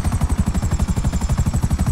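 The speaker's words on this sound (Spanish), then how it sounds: "Yo pensaba que era el helicóptero del FBI." A police helicopter in Grand Theft Auto V thuds loudly and steadily, rotor blades beating in a fast, even rhythm with a high whine riding above.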